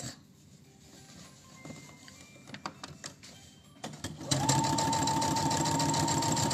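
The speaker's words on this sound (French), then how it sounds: "on va venir coudre, clac, clac, de chaque côté 1 cm" A sewing machine stitching a seam on fabric: quiet handling and a few clicks first, then the motor starts and runs steadily, a loud, even mechanical whir through to the end.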